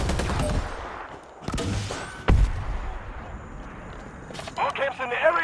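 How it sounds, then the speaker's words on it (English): Gunfire from Predator: Hunting Grounds as a lock is shot off: a rapid burst of sharp shots at the start, a heavy single report midway and more bursts near the end, with voices talking between them. "Just shoot the lock off."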